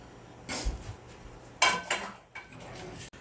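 A few clattering metallic knocks as a heavy cast iron pan is set down on a stovetop burner, with quieter clinks and scraping between them.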